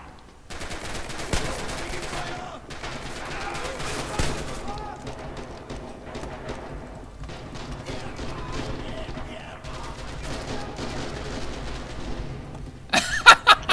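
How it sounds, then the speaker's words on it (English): Red Orchestra 2 battle at a factory: repeated bursts of rifle and machine-gun fire, some close and sharp, others distant, with brief gaps and a cluster of loud shots at the end, under intermittent talking. "You're shooting at me."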